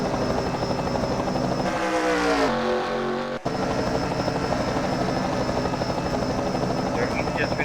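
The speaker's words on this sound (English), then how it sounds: "There's the helicopter that is" A helicopter flies over a stock car race, its loud, steady rotor chop and whine dominating throughout, with a brief shift in tone midway.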